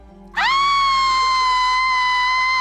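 A sudden, sustained high-pitched scream erupts after a short pause and holds loud and steady, a single long shrill cry close by.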